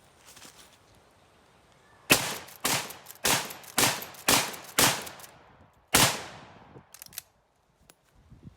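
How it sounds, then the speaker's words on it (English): A pre-64 Winchester Model 94 lever-action rifle in .32 Win Special, loaded with 165 gr FTX bullets, fires about seven loud outdoor shots in quick succession at a log, each crack ringing out with a short decay. "gonna try to do a little magazine dump into that log"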